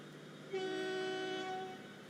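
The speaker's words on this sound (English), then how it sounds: "let's join the train" A train horn in the railway game Transport Fever 2 sounds one sustained, bright tone for about a second, fairly faint over a quiet background.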